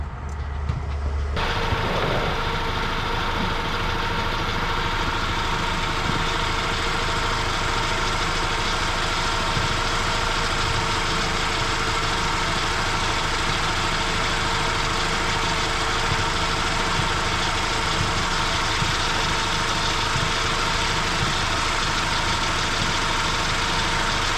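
A 2004 Oldsmobile Alero engine runs at idle, a steady, loud, continuous drone that kicks in after a brief quieter start and holds unchanged throughout.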